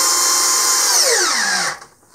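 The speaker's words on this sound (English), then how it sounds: "as soon as the spade part of the bit hits the wood, it's going to stop" A 12V Hyper Tough cordless drill drives a spade bit into wood, its steady high whine sagging in pitch as the motor bogs down, then cutting out abruptly near the end.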